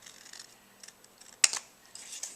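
Scissors cut through paper for a mini album cover, with soft snips followed by one sharp, loud blade closure and a few lighter cuts after it, close up with no talk.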